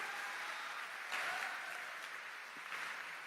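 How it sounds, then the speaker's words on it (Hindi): A crowd applauding at a public event in Gorakhpur, a steady wash of many hands clapping together, moderately loud and continuous throughout with no spoken voices over it. "अवनीश जी खातिर को जोरदार ताली"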